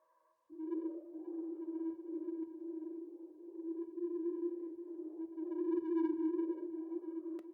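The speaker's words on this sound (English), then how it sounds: "the polar noise in Serum with a low pass filter having its cutoff modulated by LFO1" A sustained Serum synth pad of noise through an LFO-modulated low-pass filter, with a low droning tone and airy filtered texture that slowly swells and shifts, smooth and continuous.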